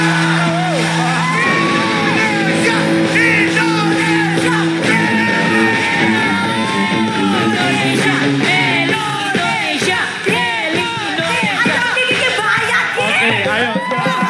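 Talent-show audience and judges at Asian music competition Da Asia 6 (2023) yelling, whooping and shouting continuously over loud music, a dense excited crowd din throughout.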